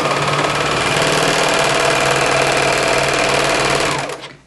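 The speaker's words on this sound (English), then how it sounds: "I've serged the two layers together" A serger stitches stretched ribbing onto a child's beach towel pullover, its motor humming in a fast, steady, close-up whir that runs unbroken and then winds down at the end.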